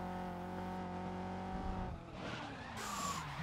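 Ford GT tyres skid and squeal under hard braking in the racing game GRID, a close, sustained screech over the engine's roar, falling in pitch as the car slows.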